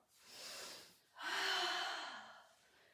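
Two audible breaths during a Pilates reformer class, a shorter inhale followed by a longer, forceful exhale, close to the microphone with no talking.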